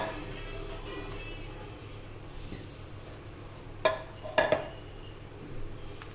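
Coconut paste and mutton being stirred and fried in oil in a pan, with a low steady sizzle under the stirring and a few sharp clinks of a metal spoon against the pan near the end.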